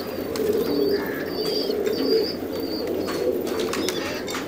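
Soft, repeated cooing from several pigeons close by in a pigeon loft, mixed with occasional higher bird chirps and faint rustling.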